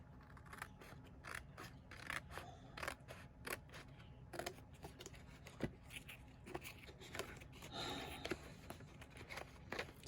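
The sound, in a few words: cutting layers with scissors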